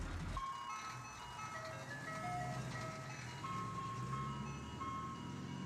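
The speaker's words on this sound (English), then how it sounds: "the ice cream truck jingle cracking cheerfully from its roof-mounted speaker" Tinny ice cream truck jingle crackles from a roof-mounted speaker, a steady looping melody of bright tones over a low rumbling engine, close and continuous with no talking.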